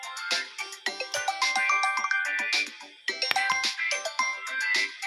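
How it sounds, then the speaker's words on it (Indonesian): A phone ringing with an incoming call, playing a bright melodic ringtone in repeated chiming phrases with brief gaps, clear and alone. "Masih ada panggilan telepon ya"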